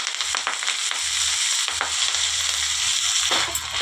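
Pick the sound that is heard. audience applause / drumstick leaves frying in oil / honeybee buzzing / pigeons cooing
drumstick leaves frying in oil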